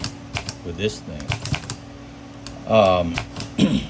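Keys of a 1938 Cadet manual typewriter struck hard produce heavy mechanical clacks in uneven bursts, close and mixed with someone talking throughout.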